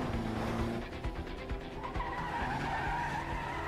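A car in Quantum Break drifts through city streets with a harsh, sustained tire skid over engine roar, close and steady for a few seconds, then easing into a continued rumble.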